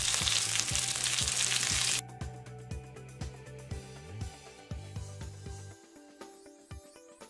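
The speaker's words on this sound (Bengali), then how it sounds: "এবার উপরের পাশটা ভাজার পালা।" Pieces of rohu fish fry in ghee in a pan. A loud, dense sizzle fills the first two seconds, then drops to a quieter crackle with soft pops until the end.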